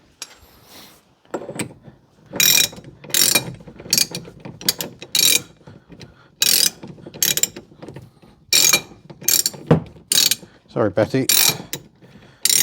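A ratchet tightens the new front wheel bearing nut on a Ford AU, giving loud, close bursts of rapid clicking that repeat in short runs with brief pauses between strokes. Someone speaks briefly between the bursts.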